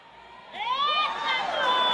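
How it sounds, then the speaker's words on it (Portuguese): A church crowd outside the sanctuary shouts and cheers in praise, a burst of raised voices and whoops that swells after a quiet start and holds loud to the end. "dê um grito de glória a Deus"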